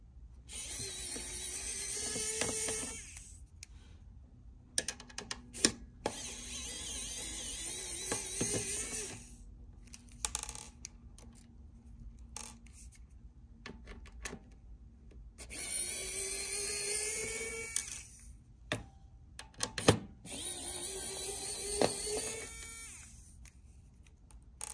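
A small electric screwdriver whirs in several short bursts as screws come out of an outdoor POE LTE router unit, with clicks and handling noises between the runs at close range.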